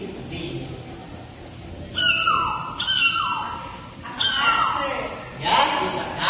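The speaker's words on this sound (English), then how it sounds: "Yes, it's a cat." A cat meows in a short series of rising-and-falling calls, about four distinct meows spaced a second or so apart, moderately loud over a low background.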